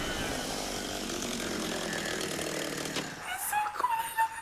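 A chainsaw drones loudly and continuously in a horror television scene, then cuts off abruptly, leaving a few faint scattered noises behind.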